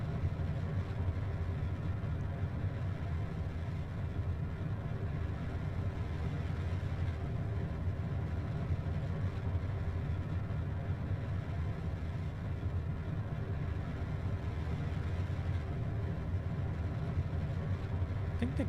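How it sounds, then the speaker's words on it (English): Rocket engines roar in Kerbal Space Program, modded with Realism Overhaul, as a loud, steady, low rumble that fills the whole stretch without letting up. "I think the game sound is a bit loud right now. Rocket engines are always overwhelming."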